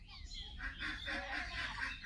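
A chicken clucks a few times around a rural home, soft and somewhat distant, in a short stretch with faint background noise.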